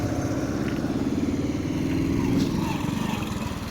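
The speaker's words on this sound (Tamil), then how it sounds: "இதில் பார்த்தீங்கன்னா தெரியும் ஒரு டாட்டா ஐசி வருது." A small Tata Ace truck's engine rumbles steadily as it drives past, a close, loud, pulsing mid-range drone that swells slightly and then eases.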